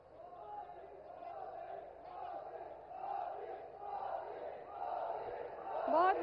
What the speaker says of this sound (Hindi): आप सबको एक बार तालियों के साथ धूमल जी का आप लोग स्वागत करें।